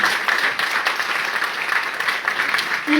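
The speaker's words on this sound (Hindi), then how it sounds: "ताली बजाओ एक बार जोरदार इनके लिए" An audience at a business training program breaks into loud, sustained applause, dense clapping from a large crowd for about three seconds.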